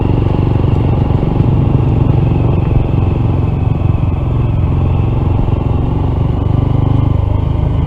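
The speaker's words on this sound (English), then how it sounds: "I don't want to do more damage to the engine than what's already occurring." A failing Honda CT125 motorcycle engine runs steadily with a rough, rattling chug and metallic clatter, heard loud and close for several seconds without talk.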